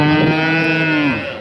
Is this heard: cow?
yes